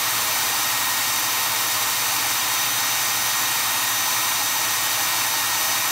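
A Milwaukee Gen 3 cordless hammer drill with an overheating fault whines steadily at high speed, a constant loud motor hum with no pauses or voices.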